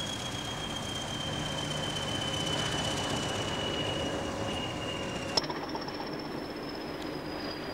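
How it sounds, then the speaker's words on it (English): Weed-killing train on a railway line near Newtondale, hauled by Class 20 diesel locomotives, rolling past with a steady rumble and a drawn-out high wheel squeal that shifts pitch after a sharp clank. "Class 20 diesel locomotives, haul the train down to Newtondale."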